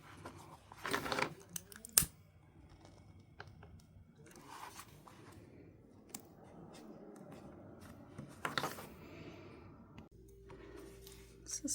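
Quiet snips of scissors trimming the end of a braided leather wallet strap, a few short crisp cuts spaced apart, with soft handling rustle in between.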